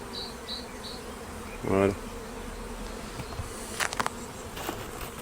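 Honeybees at a hive entrance bring in pollen, giving a faint, continuous buzzing hum with brief louder passes of individual bees close by; someone speaks one short word.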